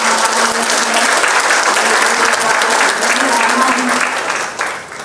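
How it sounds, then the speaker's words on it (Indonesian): An audience at a public gathering gives a dense, continuous round of loud clapping honouring a group of Papuan women, holding steady before tapering off near the end. "Boleh saya minta tepuk tangannya buat semua mama-mama ini."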